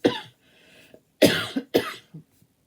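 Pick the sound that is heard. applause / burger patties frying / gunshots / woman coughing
woman coughing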